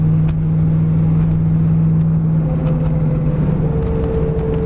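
An IROC-Z Camaro with exhaust leaks idles steadily at close range, a deep continuous engine drone with a low hum and faint ticking clatter, alone with no talking.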